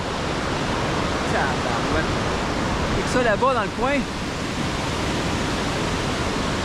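A river rushes along a trekking route in the Everest region of Nepal between Taksindu and Kharikola, a loud, steady broadband roar of water with someone speaking briefly over it.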